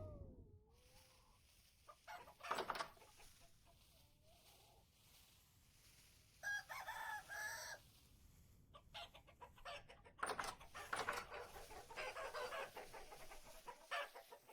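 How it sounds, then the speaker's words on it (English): A rooster in the Vintage Story video game crows and clucks a few times in quiet, scattered bursts, with faint background ambience between the calls and no talking. "I can't even tell if there's more than one rooster or not."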